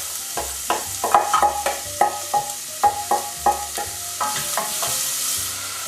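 Diced onion sizzles in about three tablespoons of hot olive oil, with a steady frying hiss under regular stirring clicks and scrapes from a utensil against the pan. No one speaks.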